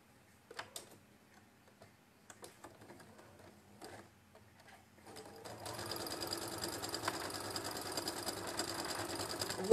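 Faint scattered clicks and taps give way to a sewing machine stitching patchwork, a rapid, even ticking whir that starts about halfway through and carries on steadily to the end, close but fairly soft.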